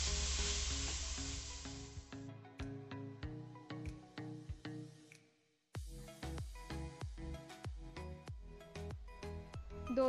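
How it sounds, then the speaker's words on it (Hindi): Bottle gourd sautéing in a pan for kheer, a steady sizzle at first that fades into repeated stirring and scraping clatters with a brief pause midway, close and moderately loud, no voices. "इसे 2 से 3 मिनट के लिए हम अच्छा भूनेंगे।"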